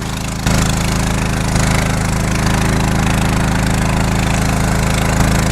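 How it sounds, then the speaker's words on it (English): A loud, steady catamaran engine drones close by as the boat passes, a constant rumbling throb that holds throughout without letting up. "That big catamaran just came through."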